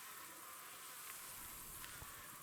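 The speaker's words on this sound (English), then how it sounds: "They do have bees on them." Honeybees buzzing on frames in a newly installed hive box: a continuous, even drone with a few faint ticks, fairly quiet and close.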